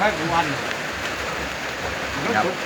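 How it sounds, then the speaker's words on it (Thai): Steady rain falls outdoors as a dense, even hiss that continues throughout, with faint voice-like sounds mixed in underneath. "เจ้าตรงนี้ฝนตกครับ"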